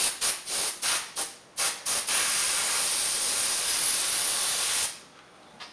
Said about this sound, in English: We're going to use a little bit of brake cleaner and compressed air to clean up.